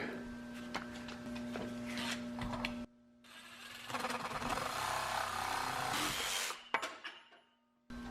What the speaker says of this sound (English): I've got a really nice DeWalt cordless chop saw here